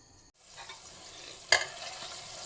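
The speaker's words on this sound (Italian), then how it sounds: "In padella aglio, peperoncino e gambi del prezzemolo e lasciamo soffriggere piano piano." Garlic, chili and parsley stems fry gently in a pan, a soft steady sizzle broken by a brief scrape or stir partway through, with no talking.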